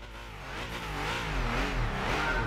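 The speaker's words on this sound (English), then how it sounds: "Listen to that car." A car engine in the video game Gran Turismo 5 revs steadily and climbs in pitch on the Top Gear test track, droning loudly and close with no voices.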